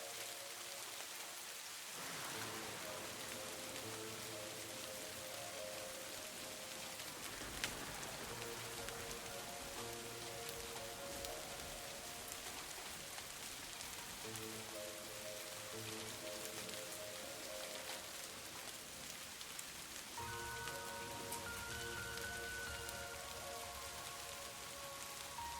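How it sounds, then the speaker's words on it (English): Steady rain pattering against a window on a rainy night, faint and continuous throughout, with a soft low tonal hum rising and falling in the background and no talk. "I love the sound of rain falling against the window."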